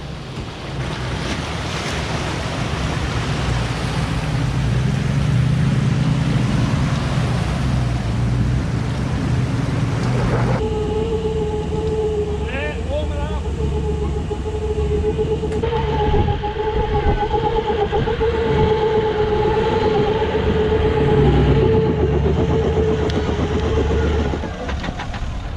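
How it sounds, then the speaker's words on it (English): Toyota Landcruiser 79 series VDJ79 on Kumho MT71 Road Venture 285/75R16 tyres drives off-road while the front left wheel slips, with a loud continuous engine drone that rises into steady revving tones over constant wind rush. "A little bit of wheel slippage there on the front left."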